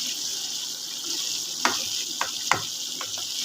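Indian gooseberries (amla) cook in a pan over low heat while being prepared for pickle, giving a steady soft sizzle with a few small pops and crackles near the end.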